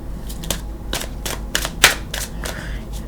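Deck of oracle cards being shuffled by hand during a psychic reading, a series of close papery riffles and flicks with one sharper snap near the middle.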